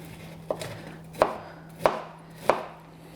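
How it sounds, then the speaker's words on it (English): A knife rough-chops a head of broccoli on a cutting board, landing four sharp, evenly spaced chops about half a second apart, close and clear against a faint steady hum, with no talking. "You are going to cut off the stem and then just take the head of your broccoli"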